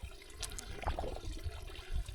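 A solar-powered fountain pump lowered into water gives a short burst of splashing and gurgling, close and moderately loud, lasting about two seconds.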